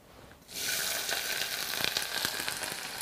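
Onion fries in a pan with garlic as part of a spinach filling for Greek pastries. After a quiet start, a sudden loud sizzle turns into a steady crackle with small pops and stirring clicks, and nobody speaks.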